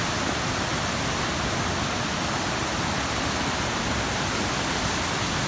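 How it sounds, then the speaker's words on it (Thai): A small waterfall in Plitvice National Park, Croatia, a steady broadband rush of falling water heard close and continuous, with no voices. "ก็ เป็นน้ำตกเล็กๆ แต่ว่า แฝงไว้ด้วย ธรรมชาติ"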